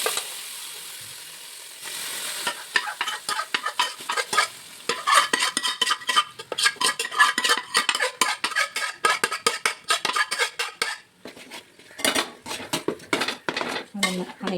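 Chickpeas and other ingredients stirred into hot ghee in a pan for a sweet payasam, with a dense run of spoon scrapes and clinks against the metal over a steady sizzle, close and busy throughout.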